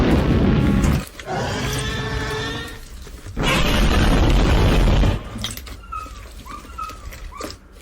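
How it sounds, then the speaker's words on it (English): A cartoonish explosion sound effect bursts in loud bursts, with a booming blast, a brief gap, then a second heavy roar before fading into scattered quieter noises. "What comes after X? Explosion."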